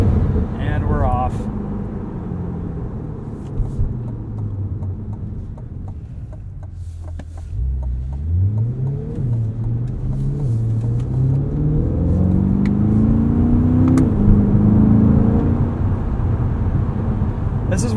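A 2020 Chevrolet Corvette Stingray Convertible pulling away and accelerating, its engine drone dipping then climbing through the revs with a deep rising rumble, while someone talks over it.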